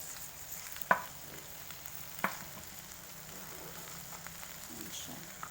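Garlic butter shrimp sizzling in a pan, a faint, steady hiss broken by two sharp utensil knocks and occasional soft stirring, with a quiet voice talking low in the background.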